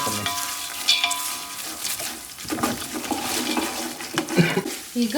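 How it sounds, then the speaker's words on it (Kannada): Roasted gram and peanuts frying in a pan at home, crackling sizzle with scraping stir strokes and clinks, uneven and close, with some talking in the background. "ಈಗ ಹುರ್ಗಡ್ಲೆ ಹಾಕಿ ಚೆನ್ನಾಗಿ ಫ್ರೈ ಮಾಡ್ಕೊಬೇಕು."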